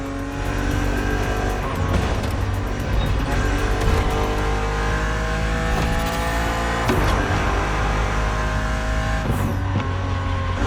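A BMW Z roadster races against an opponent in The Crew Motorfest, its engine droning loud and steady with rising and falling revs and gear shifts throughout, alone with no talk.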